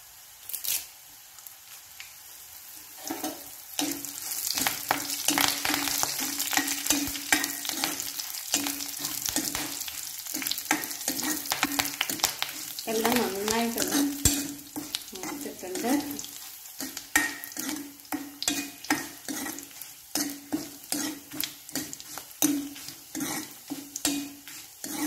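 Dried red chillies fry in a pan for a Kerala-style inji curry, a soft continuous sizzle broken by repeated scraping stirs, fairly quiet and with no talking.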